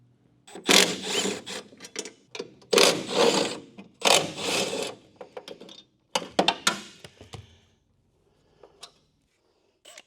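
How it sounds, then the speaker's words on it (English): Several loud bursts of a power drill grinding into a vintage Camaro's freshly painted metal firewall, starting and stopping in short runs, followed by quieter scraping and a few clicks. "So drilling onto the freshly painted firewall."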